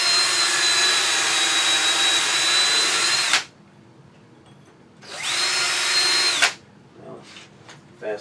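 A power drill bores screw holes for a woodturning faceplate ring in a winged bowl blank, with two loud sustained whining runs of about three seconds and a second and a half, separated by quiet, then brief light knocks and a short final buzz.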